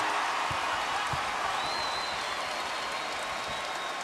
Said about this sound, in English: It's almost like they're giving him a celebratory applause here when he makes a free throw